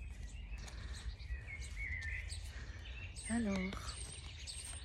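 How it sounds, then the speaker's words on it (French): Birds chirp and call outdoors in a natural setting, with brief tonal whistles and tweets over low background rumble while someone talks nearby. "Ça fait du bien d'entendre les oiseaux."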